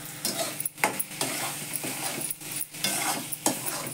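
Ground corn kernels sizzle in a hot pan while being stirred for upma, a steady frying hiss broken by regular scrapes and clinks of the spoon, close up.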